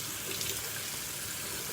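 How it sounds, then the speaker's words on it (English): Water runs from a sink faucet during skincare rinsing, a steady, close hiss and splash that continues evenly with no talk over it. "I'm at the sink right now. I'm going to rinse it off."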